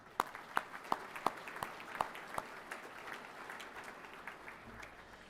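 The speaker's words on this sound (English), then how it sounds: "So one final round of applause and welcome everyone." A luncheon crowd at a Carlton football club premiership reunion applauds, with a handful of sharp, evenly spaced claps standing out over a soft wash of clapping that gradually fades.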